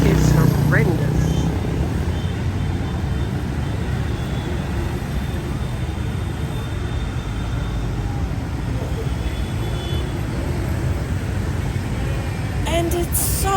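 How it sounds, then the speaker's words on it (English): Noisy road traffic in Vietnam heard as a constant broadband roar of passing engines, steady and moderately loud throughout with no distinct horns, and a voice briefly present. "Traffic is horrendous."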